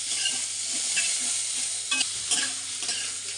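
Onion and green chilli sizzle steadily in shrimp oil with a few black cumin seeds, a dense close frying hiss broken by occasional stirring scrapes.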